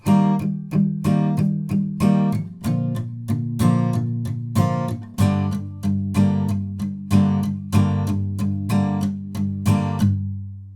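Acoustic guitar strums pre-chorus chords in a steady rhythm with short, palm-muted choppy strokes, loud and close, ending on a ringing chord with no voices.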